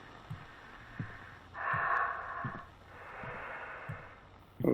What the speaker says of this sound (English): Sounds more like heavy breathing to me.